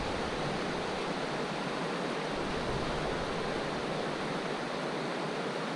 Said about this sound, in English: Nooksack Falls.